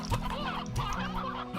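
Chickens in the Slime Rancher video game cluck in a steady, busy chorus of short repeated calls under a continuous background of game sound.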